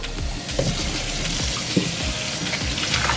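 Pork belly rinsed under a running kitchen tap, a steady close splashing stream with occasional sharper splatters as water hits the meat, no talking.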